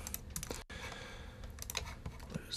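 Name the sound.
mouse clicking in Ableton Live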